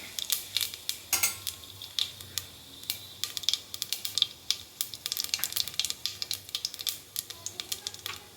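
Cumin seeds crackle and pop in hot oil while greens are being cooked, a quiet, close sizzle full of rapid irregular ticks and spits with occasional spoon clinks.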